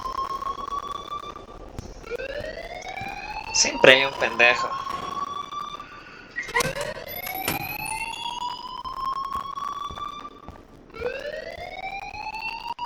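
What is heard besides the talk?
fire alarm ringing in the video game Life is Strange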